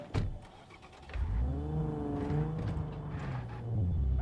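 A car engine in the video game Cyberpunk 2077 hums steadily at mid pitch, rising and wavering as if revving, with a sharp thump at the start and no talking.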